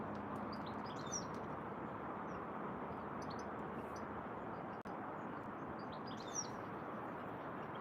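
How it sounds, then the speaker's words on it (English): Several birds chirp and sing outdoors on a calm day, scattered tweets over a steady broadband background hum that runs throughout, with one brief dropout partway through. "Oh, very nice of these birds today."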